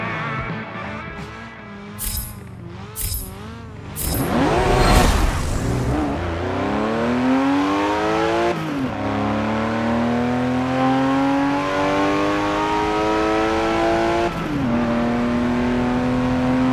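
A 1982 Porsche 911 Turbo 3.3 in Forza Motorsport 7 revs loud and close, its engine note climbing through repeated gear changes at a steady, strained pitch with brief blips early on, and no talking.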